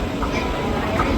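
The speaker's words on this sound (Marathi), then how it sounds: "ट्रेन येते बघा." The Lakshadweep Express from Ernakulam to Nizamuddin rumbles into the station at Chiplun, a steady low train noise with faint clatter, while a person talks over it.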